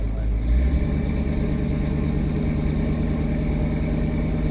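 1965 Chevy Nova wagon engine idling in a steady, moderately loud low rumble after a brief initial blip, continuous and even with no talk over it.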